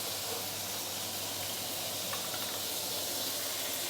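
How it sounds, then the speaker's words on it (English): Tomato sautéing with tomato sauce in a pan for sweet and sour pomfret gives a steady, soft broadband sizzling hiss that holds evenly for the whole stretch, with no voices. "I'm going to saute the tomato"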